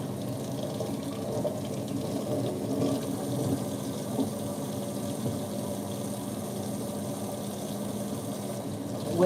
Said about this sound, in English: I'm gonna just put a little bit of water on this.